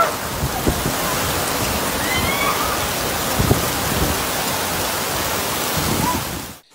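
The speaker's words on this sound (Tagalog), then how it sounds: "kasunod ng pagbuhos ng malakas na ulan. Nagmistulang ilog ang Session Road" Dense steady hiss of heavy rain mixed with rushing floodwater turning Session Road in Baguio City into a river, loud and continuous, with faint scattered voices and clatter underneath.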